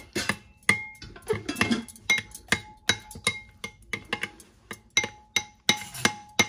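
A spoon stirs yogurt in a bowl, clinking against the sides in a steady run of sharp taps with scraping between them, close and clear, and no talking.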